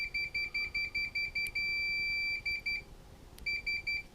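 A multimeter on continuity mode beeps in a quick regular series of short, shrill tones while its probes test the pins of an Xbox 360 power supply, with one long beep and brief pauses.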